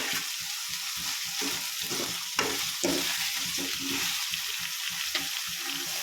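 Eggplant and tomato sautéing in a pan for a tamarind curry, a steady close sizzle with repeated scraping stir strokes and a few sharper clinks of the spoon, no talk.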